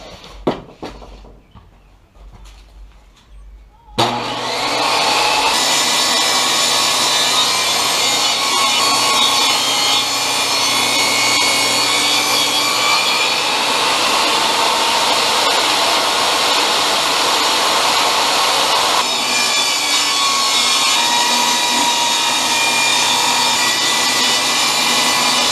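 A power saw rips through a wooden board, trimming it to twelve inches: after a few quiet seconds and a click, a loud, steady high whine runs on continuously, close and alone.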